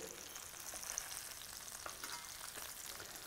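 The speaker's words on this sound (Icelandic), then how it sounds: "Hún verður svona gullin brún, smjör steikt nýskata." Fresh skate fries in butter in a pan, a steady close crackling sizzle with fine popping that continues evenly throughout.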